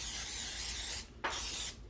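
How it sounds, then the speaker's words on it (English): Two hissing bursts of cooking spray aimed into an air fryer pan before bacon goes in, a long steady spray then a short second one after a brief pause, close and loud with no talking. "we're going to spray the inside of the pan so the bacon doesn't stick"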